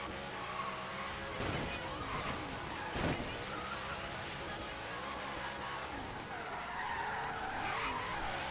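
Tire squeal from a drifting RJ Anderson race truck in Forza, a sustained skidding screech running throughout with engine noise beneath, a sharper burst near the middle, and talk over it.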